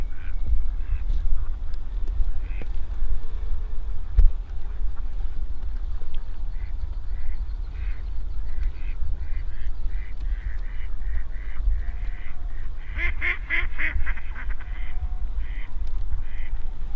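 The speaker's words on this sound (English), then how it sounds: "here come a bunch of ducks over our heads" A flock of ducks passing overhead during a late-season waterfowl hunt, with repeated raspy quacks that grow busier and louder midway before thinning out, over a quiet outdoor background.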